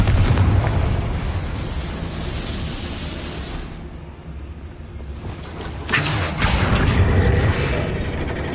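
A Confringo spell explosion in a Harry Potter video game gives a loud, close, rumbling blast that fades, then a second burst of roaring, crackling noise follows after a short dip.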